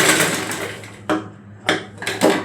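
Sewing machine stitching a folded hem on an eight-panel sari petticoat, running in short bursts with brief pauses between stitching runs, close and moderately loud.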